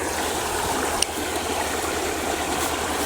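River water flowing steadily near farm fields, a constant wash of rushing and trickling with no pauses, fairly loud and close, with one brief tap about a second in.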